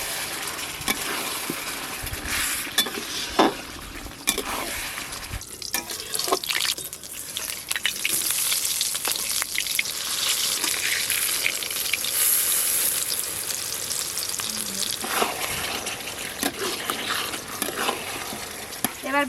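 Chicken curry simmering in its own released juices sizzles and bubbles in a pan as sour yogurt goes in. Wet stirring and scraping come through, with brief watery splashes and a steady hiss throughout. No one speaks.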